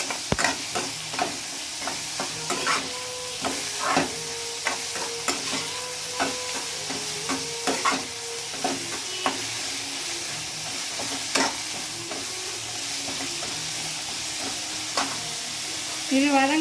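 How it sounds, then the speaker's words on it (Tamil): Onions sauté in oil in a pan with a steady sizzle, stirred now and then so that utensil clinks and scrapes ring out over the frying. "கொஞ்சம் எண்ணெய் விட்டு வெங்காயம் விட்டு வதக்கிட்டு இருக்கேன்."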